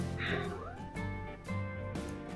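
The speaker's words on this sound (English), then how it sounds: "The cats are saying hello." Several cats meow in a steady run of three or four tonal, pitch-sliding calls close to the microphone, indoors, each cry fading into the next without pause.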